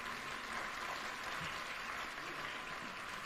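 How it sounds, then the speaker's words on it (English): An audience at the official opening of Kenya Innovation Week gives warm, sustained applause, a steady clatter of many hands heard from a distance and fairly faint, with no speech. "Another warm applause for the CEO Kenya"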